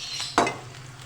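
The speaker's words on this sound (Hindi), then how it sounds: "प्याज और लहसुन अदरक के साथ सबसे पहले हम कोकोनट पाउडर डाल के भूनेंगे।" Coconut powder being roasted with onion, garlic and ginger in a pan gives a brief, close sizzle with a stirring scrape, then settles into a soft, steady frying hiss. No one speaks.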